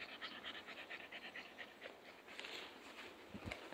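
A frightened dog pants rapidly during a thunderstorm, quick steady breaths close by and fairly quiet, with faint rain in the background and a low thump near the end.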